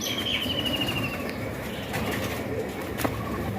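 A large rooster flaps its wings in scuffling bursts as someone tries to catch it by hand, close up over a steady hiss of outdoor background noise.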